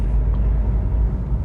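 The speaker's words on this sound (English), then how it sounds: "we've got a good view of a big lorry in front" Heavy low rumble of traffic on a road in Pattaya, with a big lorry driving just ahead, a continuous close engine drone and road noise without a break.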